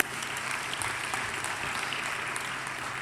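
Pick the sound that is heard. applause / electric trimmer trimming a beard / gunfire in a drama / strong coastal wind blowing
applause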